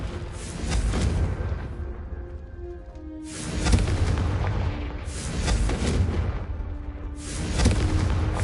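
Repeated Confringo blasting spells in Hogwarts Legacy explode with loud booming bursts, four heavy blasts a couple of seconds apart, each with a rumbling tail and some magical tones between them.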